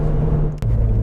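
Engine of a Ford Fiesta ST hot hatch pulling hard at full throttle through short gear ratios, a steady loud low drone with a brief dip, like a quick gearchange, partway through.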